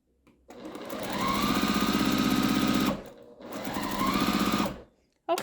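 Running at a fast, even whir, a sewing machine stitches around the perimeter of a fabric square for half-square triangles in two long bursts separated by a short pause, close and clear, with a click at the end.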